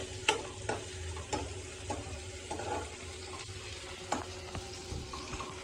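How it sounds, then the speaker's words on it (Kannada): Onion frying in a pan for a home-cooked cabbage dish, a soft continuous sizzle broken by several sharp stirring scrapes and clinks, close and fairly quiet. "ಇದು ಚೆನ್ನಾಗಿ ಫ್ರೈ ಆಗ್ತಾ ಇದೆ ಇವಾಗ ಆನಿಯನು"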